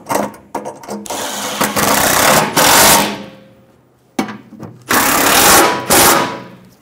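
A ratchet or power driver tightens the front bolt of a skid plate on a 2005-2015 Toyota Tacoma, two bursts of close, loud rapid clicking and whirring with short pauses between.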